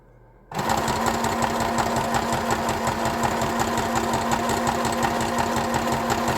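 A sewing machine stitching a zigzag starts up after a brief quiet moment, then runs at a steady, loud, rapid mechanical whir with a fine, even pulsing rhythm throughout.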